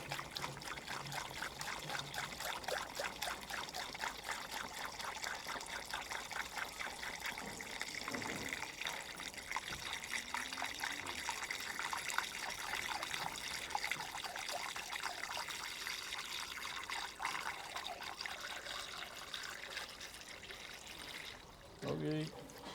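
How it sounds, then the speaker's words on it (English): Water runs and trickles steadily from a Dynahoe excavator radiator being drained during a restoration, a continuous splashing pour heard close up, with people talking faintly in the background. "there's a fair bit of water come out of that rad."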